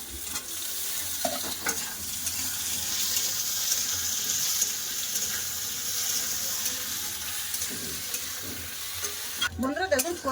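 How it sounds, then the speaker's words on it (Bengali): Steady hiss of potato and taro frying in oil with onion, with occasional scrapes of stirring and a clatter near the end, no voices. "আলু কচুটা আমাকে ভেজে নেবো আগে দরকার ছিল"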